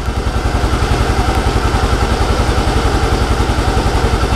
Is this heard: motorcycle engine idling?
yes